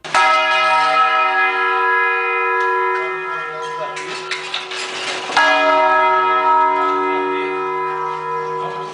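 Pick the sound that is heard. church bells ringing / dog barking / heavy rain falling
church bells ringing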